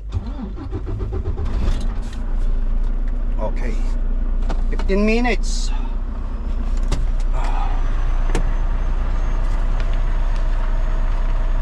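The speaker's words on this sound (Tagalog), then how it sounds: "Start na natin ng truck." A truck engine cranks and catches, then settles into a steady low idle rumble throughout, with someone speaking briefly over it.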